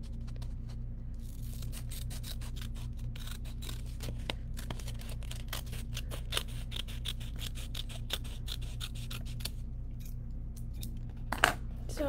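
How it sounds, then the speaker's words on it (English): Scissors snipping through paper in a long run of quick, crisp cuts while making a corner bookmark, close by over a steady low hum, no voices. "So you're going to use your scissors"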